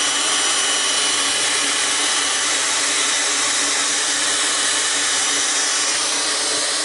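A Dyson Supersonic hair dryer runs continuously, giving a loud, steady, airy rush with no breaks from start to finish.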